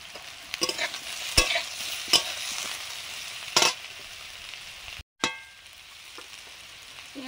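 A single crab fries with potatoes in a pan, a steady sizzle broken by several sharp scraping and clanging stirs, then a brief cut before the frying hiss carries on more quietly.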